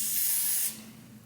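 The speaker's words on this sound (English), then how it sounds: "So I'm just spraying, I'm going to do 3 layers with this spray." Hair spray hisses in one close, steady burst of about two-thirds of a second, laid on a full lace wig, then cuts off into quiet room tone.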